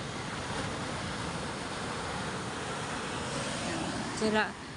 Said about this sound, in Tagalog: Medyo nakalaki din na ang alon.